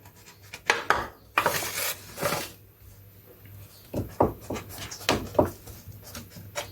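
A heated knife slices through stacked layers of phyllo dough into triangles, making a series of short, crisp scraping and crunching bursts in irregular clusters, close and fairly clear, with quiet pauses between cuts.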